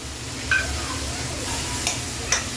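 Mint leaves being sautéed and stirred in a pan for fish kurma, a steady low sizzle with a few sharp scraping clicks from a spoon against the vessel.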